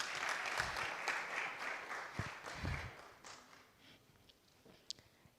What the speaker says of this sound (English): give a few claps